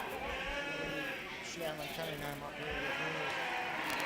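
Dorset sheep bleat at a 4-H/FFA livestock show, a few wavering calls rising out of a noisy show-ring crowd with a voice talking in the background.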